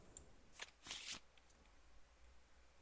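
Cards for the Arkham Horror card game are shuffled, giving a soft riffle burst of papery rustle after a quick flick, faint and close over quiet room hiss with no speech.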